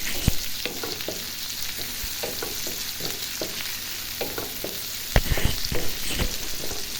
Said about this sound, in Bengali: তো ওই যে দেখুন পেঁয়াজ রসুন আগে তেলে দিয়ে দিছি,